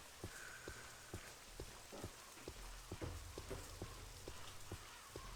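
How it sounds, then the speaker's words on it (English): Steady rain falling in The Elder Scrolls 3: Morrowind, near the town of Pelagiad, a constant wash of patter with a low rumble underneath and soft periodic thumps, no voices. "And it's raining again"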